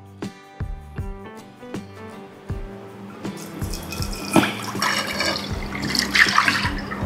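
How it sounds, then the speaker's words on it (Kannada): Water is poured into a pot for modak (sweet kadubu) dough, a close splashing, gurgling flow that follows several sharp metallic taps and builds steadily in loudness. "ನೀರು ಹಾಕ್ಬಿಡೋಣ"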